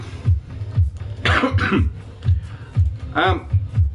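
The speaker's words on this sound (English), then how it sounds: "I'm just having a coughing fit" A person has a coughing fit while narrating a Minecraft hard-survival village build, with several harsh coughs breaking through close, steady, regular low thumps from the game.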